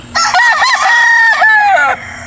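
A rooster on a chicken farm gives one loud, close crow of about two seconds, ringing and harmonic, with a faint steady hum in the background.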